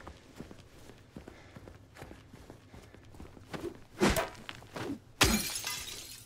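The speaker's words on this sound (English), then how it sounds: "She don't like when I break glass" Glass shatters in Silent Hill 2 Remake, with soft footsteps and light impacts leading up to a loud crash near the four-second mark and a second, brighter burst of breaking glass near the end.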